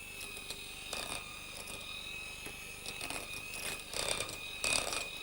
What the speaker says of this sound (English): as you feel them begin to give under the whisk, then you can go up to a higher speed